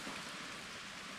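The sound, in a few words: rain falling after a thunderstorm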